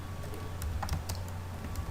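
Computer keyboard typing, a quick run of light key clicks in an irregular rhythm, close and clear, with a steady low hum beneath and no voices.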